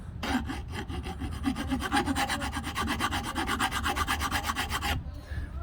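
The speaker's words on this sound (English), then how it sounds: "So I'll even take a file on these bigger little edges." Steady, rapid rasping of a hand file dragged back and forth over the gouged edges of a 2004 Acura TL 8.5-inch A-Spec aluminum alloy wheel, close and continuous for about five seconds before stopping.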